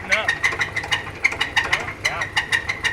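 Car engine idling with a noisy camshaft as it warms up, a close, rapid ticking clatter over a low running hum, with people talking over it.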